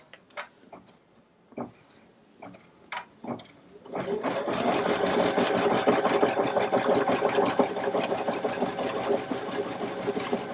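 A few light clicks and taps come first, then an embroidery machine starts stitching the layers of a table runner, a steady, fast mechanical chatter that runs on evenly at close range.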